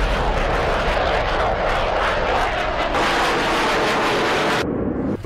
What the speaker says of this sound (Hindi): आसमान में एक तरफ रूस का सिर्फ एक फाइटर जेट, वहीं दूसरी तरफ अमेरिका के 2 न्यूक्लियर बॉम्बर।